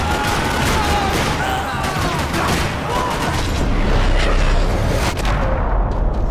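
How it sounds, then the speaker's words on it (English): Dense, continuous gunfire in a parking lot in the video game Max Payne 3 rattles throughout, loud and unbroken, with booming shots layered over a busy battle din. "Another parking lot rattling with gunfire."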